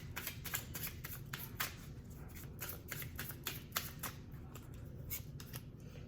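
Tarot cards being shuffled during a reading, a steady run of soft papery riffles and flicks repeating close by in a quiet room, with no talking.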